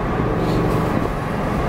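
A Mercedes C63 AMG engine rumbles loudly and steadily as it drives with the windows down, a dense low drone that is heard alone.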